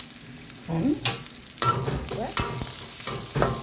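Onions sauté in a pan with a steady sizzle, broken by several sharp scrapes and clatters of a spoon stirring them, close and fairly loud, with no voices.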